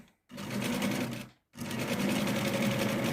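A sewing machine stitches fabric for a pocket yoke in two close bursts of rapid, even motor hum and needle chatter, split by a brief pause, with no talk over it.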